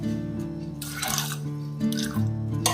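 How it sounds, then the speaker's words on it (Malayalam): Water splashes into a pot of cow peas in two short bursts over a steady low electrical hum. "ഇത് മുങ്ങുന്ന രീതിയിൽ വെള്ളം ഒഴിക്കാം"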